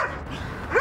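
A single short dog bark close by, brief and sharp, over a muffled background, in a Japanese TV commercial for a sushi delivery service.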